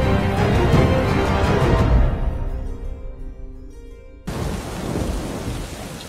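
A thunderstorm brings loud rolling thunder over heavy rain. The rumble fades into a quieter lull before the downpour abruptly surges back, with no voices.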